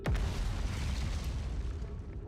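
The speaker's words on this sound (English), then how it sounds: "As I hear explosions in the background." Deep booming explosions from the Outer Wilds video game, a heavy low rumble opening with a sharp hit and then rolling on steadily in the background throughout.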